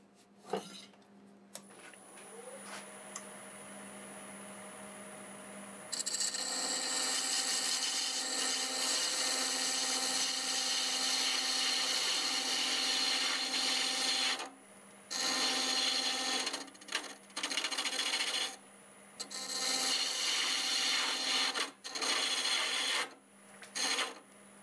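Abrasive blending on a segmented wood turning spinning on a lathe, a steady rasping hiss with a motor whine that starts about six seconds in and runs in long bursts broken by short pauses, loud and close.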